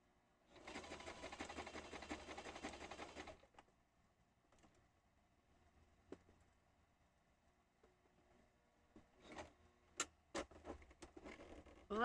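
A sewing machine stitches through thick thread in a fast, close burst of rapid mechanical patter lasting a few seconds, then stops; quiet follows with scattered clicks and sharp knocks toward the end.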